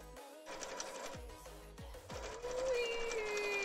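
Sewing machine stitching ruffles together for a cosplay costume, heard close and fairly quiet in short runs of whirring separated by brief pauses, with a faint tonal whine near the end.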